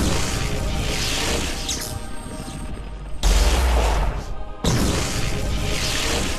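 Gunfire in Assassin's Creed III, with sharp booming shots and crashes, sudden loud bursts breaking a steady background of game noise.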